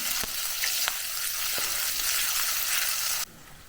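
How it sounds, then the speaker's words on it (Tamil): Onion, garlic, ginger and tomato sauté in a pan with a loud, continuous sizzle and a few faint clicks of stirring, before the sizzle cuts off abruptly near the end. "இப்போ சட்டியில் வதங்குற வெங்காயம் பூண்டு இஞ்சி கூட தக்காளியை போட்டு நல்லா வதக்குங்க"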